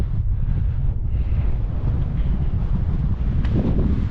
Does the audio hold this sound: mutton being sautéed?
no